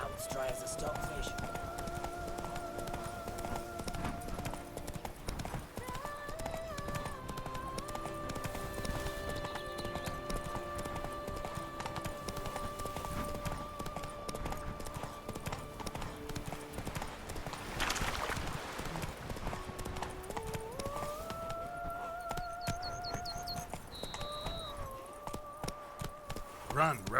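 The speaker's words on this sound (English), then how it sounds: "Come on, horse. Let's go ride." Steady clip-clop of galloping horse hooves in The Witcher 3: Blood and Wine runs throughout, with background music tones layered over the rhythmic beat.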